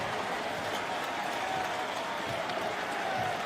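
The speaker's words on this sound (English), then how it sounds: "Even the Knicks are applauding." A basketball arena crowd applauds a departing Vince Carter, even the opposing Knicks fans joining in, with steady massed clapping and crowd roar that sounds continuous and fairly distant.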